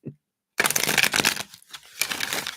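A deck of oracle cards is shuffled close up in two quick bursts of crisp riffling and flicking, separated by a brief pause, after a short murmur at the start.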